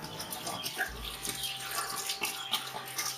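Rainwater poured into a stock pot for chicken stock, a soft steady watery rush running fairly close and continuous for a few seconds, with no talk over it.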